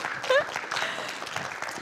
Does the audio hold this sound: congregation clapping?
yes